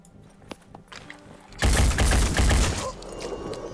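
Gunshots in the video game Phoenix Point: a loud sustained burst of rapid fire after quieter scattered thumps, ending abruptly with a fading tail.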